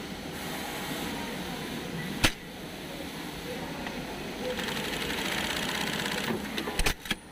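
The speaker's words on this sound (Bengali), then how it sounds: "আমি এখন মেশিনটা সুইং করব" A Juki double-needle industrial sewing machine runs with a steady mechanical whir, growing louder partway through, with a sharp clack near the start and a few quick knocks at the end.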